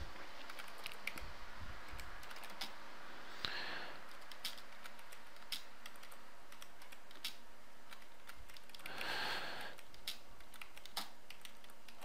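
Typing on a computer keyboard comes in scattered bursts of close, crisp key clicks, with brief pauses and a couple of louder rustling moments.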